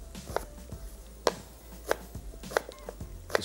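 A knife chops a small-to-medium onion on a cutting board in a home kitchen, five or six sharp, evenly spaced knocks ringing out close by over a faint low hum, with no talking.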